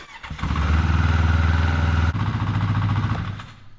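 A four-stroke motorcycle engine idles after a cold start, loud and close, with a fast, even, throbbing pulse that holds steady, dips slightly partway through and then continues before fading near the end.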